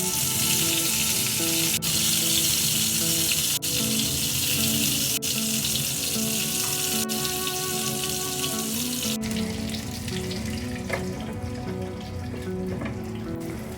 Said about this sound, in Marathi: झाकण देऊन 3 ते 4 मिनिटांनी सतत वांगी सर्व बाजूने अशी उलटून देखील